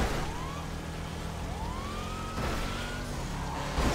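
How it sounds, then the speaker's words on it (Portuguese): A wailing police siren in the video game GTA V rises and falls repeatedly over a steady engine roar, loud and close, with no talking. "Se liga a sirene."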